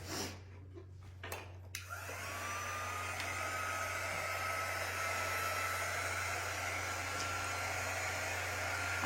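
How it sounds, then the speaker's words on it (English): A hair dryer switches on after a few brief clicks and blows steadily and loudly, with a high whine running through its constant roar, drying a craft project. "I'm gonna dry this super quick."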